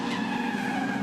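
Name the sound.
race cars spinning out, tires skidding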